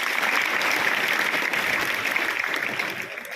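Audience applause in a Hindi-language talk or seminar, steady dense clapping from a group lasting about three seconds, fairly even in loudness and easing slightly at the end.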